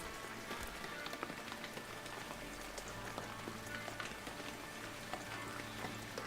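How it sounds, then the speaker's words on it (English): Steady, dense rain hisses continuously in Shenmue III, a soft even wash of drops on surfaces with scattered small spatters, fairly quiet and without talk. "It's still raining like crazy."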